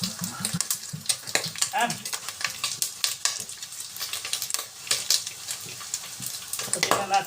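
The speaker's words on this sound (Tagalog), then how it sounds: "Magigisa na tayo." Ginger and garlic are sautéed for pakbet in a pan, sizzling and frying with steady stirring and scraping that rise and fall close by. A voice speaks briefly over it.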